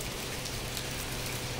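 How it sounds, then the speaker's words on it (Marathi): Unexpected May rain falling outside, a dense, steady hiss of drops on surfaces that holds evenly throughout with no voices. "किती पाऊस आहे?"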